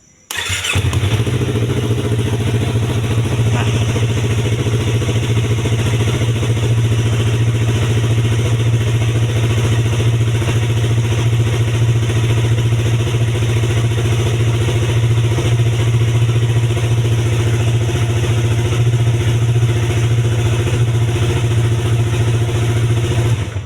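A Yamaha R25 motorcycle fitted with a Power Up H25 Tech fires up with a quick start, then settles into a loud, close, even idle that holds steady throughout, no talking.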